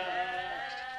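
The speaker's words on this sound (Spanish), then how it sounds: "Ovejas." A lone sheep bleats once, a brief, faint, wavering cry heard on its own.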